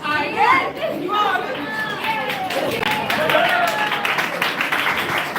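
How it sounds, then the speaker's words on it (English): A group of students in a classroom clapping for themselves, brisk scattered applause mixed with lively chatter and overlapping voices throughout. "Nobody's clapping for them. They're clapping for themselves."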